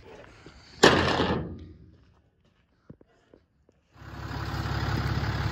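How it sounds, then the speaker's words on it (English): A farm truck's engine starting and warming up on a pasture pig farm: a heavy thunk opens the clip, then a quiet gap with faint clicks, then a steady low idle rumble that holds to the end. "All right, truck's warming up."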